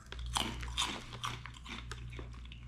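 Close crunching bites and chewing of a crispy Filipino barbecue-flavored star-shaped snack, a few sharp crackles over a low steady hum.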